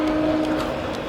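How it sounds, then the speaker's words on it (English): A train rumbles past at close range in rural farmland with cows nearby, a loud continuous roar with a brief steady horn-like tone in the first half, no speech. "waiting for the train to go by."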